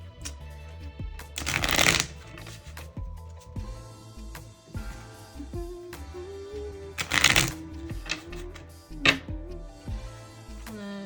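Two quick riffle shuffles of a tarot card deck, sharp papery bursts separated by quieter handling, with soft music playing underneath.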